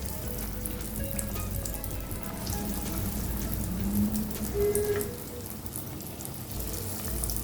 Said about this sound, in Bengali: গ্যাসটাকে কিন্তু আমি হাই ফ্লেমে করে এই চপগুলোকে ফ্রাই করছি।